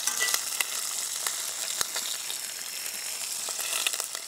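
Fried chicken cutlet splattering and sizzling in a pan at a campsite, a dense steady hiss with scattered sharp pops and crackles throughout.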